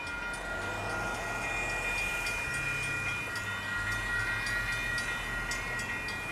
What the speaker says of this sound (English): it's a train that's coming down the track